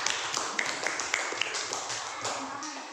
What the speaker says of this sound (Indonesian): Tepuk tangan semuanya, nak.